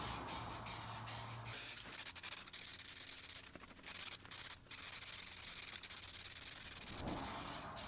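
An aerosol can sprays a second coat of paint onto vinyl and leather in a series of close hissing bursts, some short and some sustained, separated by brief pauses.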